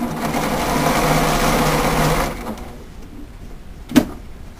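A sewing machine stitches in a zipper with a close, steady motor whir for about two seconds, then falls quiet; a single soft knock follows a moment later.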